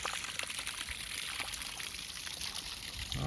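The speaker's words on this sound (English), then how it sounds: "There the water is coming down." Water from a Harbor Freight pump pours down a homemade linerless rock waterfall, a steady broadband splash and trickle running continuously, close and moderately loud, with no talk.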